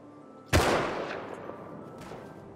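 A single sharp rifle shot in Rust, from an AK or a bolt-action rifle, rings out loud and decays with a long echo, followed later by a faint distant shot.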